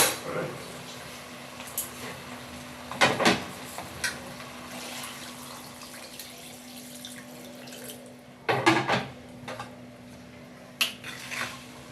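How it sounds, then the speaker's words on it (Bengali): Water poured into a pot of Bengali mutton curry makes two bursts of splashing and pouring against a quiet kitchen background, with some clinks of the vessel. "এবার আমি জল দিয়ে দেব"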